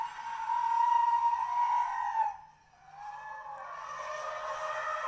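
A 2021 Ford Mustang Mach-E GT drifting with its back end sliding sideways, a sustained tire squeal that fades briefly and then returns, loud and fairly close, with no engine roar beneath.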